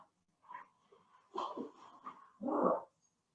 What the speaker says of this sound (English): Oh, these dogs.